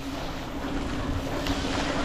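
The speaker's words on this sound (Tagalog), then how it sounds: "Nakikita niyo yung pagdaloy ng tubig, hindi trapiko ha, daloy ng trapiko o tubig." Rainwater flowing steadily along a farm-to-market road on a rainy day, a continuous rushing wash with a faint low hum running underneath, close and fairly loud, with no voices.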